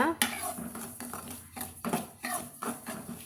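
A spoon scraping and clinking against a pan while semolina (rava) is stirred and roasted, with rhythmic metallic scrapes repeating steadily over a low background.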